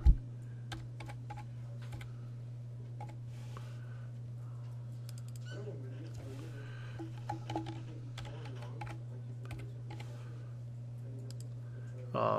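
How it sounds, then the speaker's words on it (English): Computer keyboard and mouse clicks at a desk, a steady run of light, close taps and clicks over a constant low hum, with no talking. "Click, click, click"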